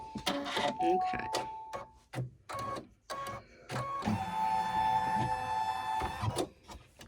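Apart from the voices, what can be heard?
embroidery machine stitching down a ribbon on a potholder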